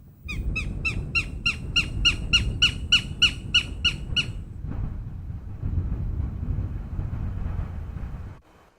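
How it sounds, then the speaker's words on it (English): Goshawk, a bird of prey, giving a loud, rapid series of about a dozen sharp, evenly spaced calls over a rumbling background, then falling silent while the low rumble continues. "We are looking for a goshawk, a proud bird of prey with a wide wingspan and a long tail."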